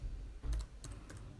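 Typing on a computer keyboard while entering a label into a spreadsheet cell, heard as a few quick, soft clustered keystrokes close to the microphone over a low background hum.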